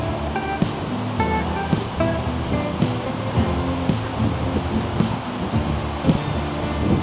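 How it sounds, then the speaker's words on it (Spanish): Steady roaring rush of water at the foot of the Diamantes waterfall in the Dos Aguas ecotourism park near Iztaccíhuatl volcano, a dense continuous crash close by, with faint tonal sounds underneath. "Estamos justo abajo de la cascada, pero ya no me quiero acercar más."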